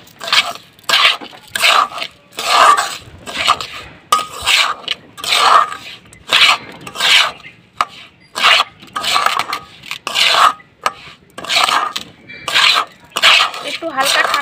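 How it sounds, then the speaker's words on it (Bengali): Fried rice stirred into date palm jaggery in a pan, a steady run of rhythmic scraping and clinking strokes from a utensil against the metal, close and fairly loud, with no talking. "এবারে আমি এই যে ভাজা চালটা এর মধ্যে দিয়ে দেব, দিয়ে ঘাটতে হবে খুব ভালো করে"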